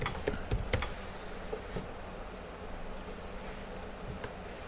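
Fingers type a search on a computer keyboard in Kubuntu: a quick cluster of close, crisp key clicks up front, then a few scattered taps over a quiet background.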